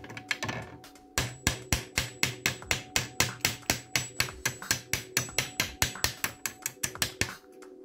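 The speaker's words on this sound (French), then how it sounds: "comment retrouver à coup sûr le bon profil d'une clé en enfonçant la clé du client au marteau dans une ardoise" Hammer blows driving a customer's key into a slate to copy its profile: a steady run of about two dozen sharp, evenly spaced metallic taps, close and loud, with no talking.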